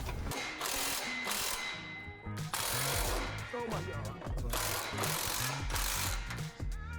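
A ratchet tightens an exhaust clamp during an aftermarket AWE Switchpath exhaust install on a Cadillac CT4-V Blackwing, producing rapid, close, repeated clicking strokes in quick bursts.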